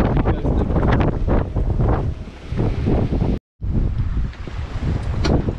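Heavy wind buffets a sailing boat off Cascais, roaring in loud, uneven gusts across the microphone with sea wash beneath and a brief dropout; a short spoken phrase breaks in.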